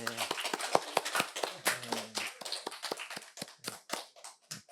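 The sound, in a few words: applause in church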